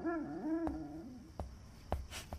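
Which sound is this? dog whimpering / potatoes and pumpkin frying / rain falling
dog whimpering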